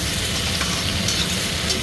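Tomatoes hitting frying ginger-garlic paste in a pan, a loud, dense, continuous sizzle heard up close with no talk.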